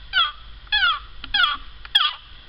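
A homemade turkey call, a stick scraped on a corn cob, gives four quick yelping clucks in an uneven rhythm, close and fairly loud, imitating a wild turkey with no talking.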